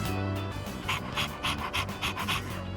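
Koromaru, a dog in Persona 3 Reload, pants in steady, quick breathy bursts, close and fairly loud, with no voices over it.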